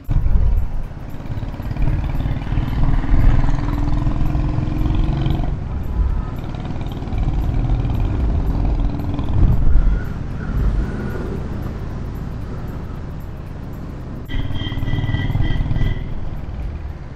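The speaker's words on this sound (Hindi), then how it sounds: "अब यहाँ से सलमान बाइक चलाएंगे और मैं पीछे बैठूंगा।" A motorcycle engine drones steadily as the bike is ridden with a passenger on the back, a continuous close rumble with road and wind noise that swells slightly at moments over about seventeen seconds.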